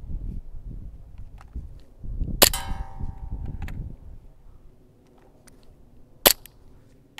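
WE Glock 19 airsoft pistol fired twice, each shot a sharp metallic clack with a ringing tail, spaced several seconds apart against quiet rustling and handling noise.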